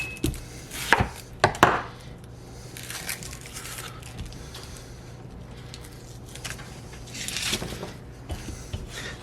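A knife chopping a red onion on a board, a few quick firm cuts early on, then quieter slicing and a later burst of cuts, close and without speech.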